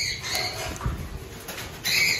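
A caught pigeon flaps its wings indoors in short bursts of rustling, with a louder flurry near the end and no voices.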